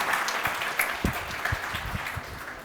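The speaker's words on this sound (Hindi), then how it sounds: "तालियां तो बजा दो, कंजूसी नहीं" A CA Inter class in a strategic management lecture applauding; fairly faint, steady patter of many hands with several sharper individual claps standing out.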